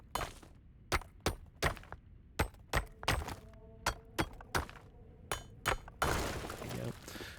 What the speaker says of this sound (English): And we have to chisel this away.